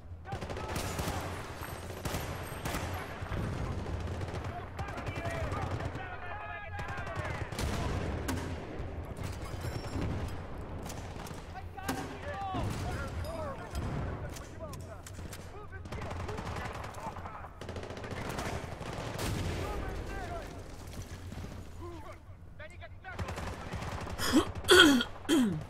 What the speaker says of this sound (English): Someone's shooting at us over here, though.